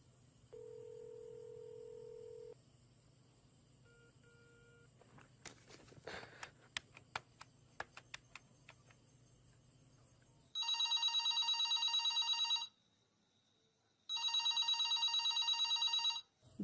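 A telephone handset sounds a brief tone, then a quick series of dialing beeps and clicks, followed by two long bursts of electronic ringing separated by a short gap, all fairly quiet with no speech.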